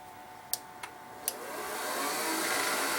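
An older ProSharp Ellipse AS2001 skate sharpening machine is switched on: three sharp clicks, then a motor whir that rises and settles into a steady hum, running alone without speech.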